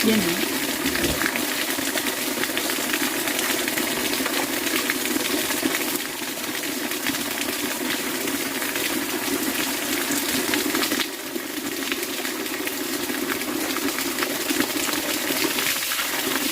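A newly installed water pump runs steadily, giving a continuous broadband rushing of flowing water that stays loud and even throughout, with a brief dip midway and a person talking faintly underneath.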